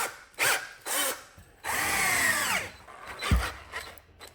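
A power drill bores into wood with a 12-inch hardened 1045 steel self-feeding auger bit, loud bursts of grinding and whirring starting and stopping several times, with one long straining run in the middle.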